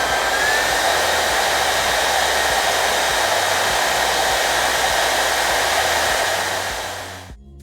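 A Siyoo hair dryer blows on its max setting with a loud, constant rushing roar and faint motor whine, then spins down and cuts off abruptly at the very end.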